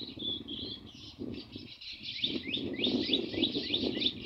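Baya weaver birds chirp repeatedly at their nests under a cloudy sky, a steady run of bright, quick calls that grows busier and louder toward the end over a low background rumble.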